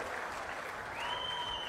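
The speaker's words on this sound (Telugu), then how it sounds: "గట్టిగా చప్పట్లు కొట్టి అభినందించండి." An audience claps at a Swachh Andhra public event with Chief Minister Chandrababu Naidu, a faint, steady patter of applause from a hall crowd with a thin whistling tone over it.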